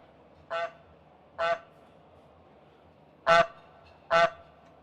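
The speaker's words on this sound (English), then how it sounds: "make honking goose sounds when you click in the right place" A goose-honk sound effect plays four separate honks, nasal and brassy, in two evenly spaced pairs against near silence.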